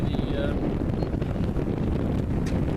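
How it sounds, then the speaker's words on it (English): Wind gusting at a lake, a steady broadband roar and buffeting close on the microphone that fills the whole stretch without pause. "there's a gust of wind."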